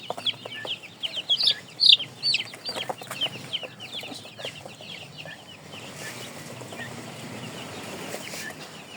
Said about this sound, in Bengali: এই যে আমার টার্কি মুরগি